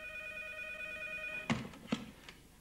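A telephone bell rings steadily and alone at a moderate distance, then stops abruptly as a few soft clunks of a handset being lifted follow.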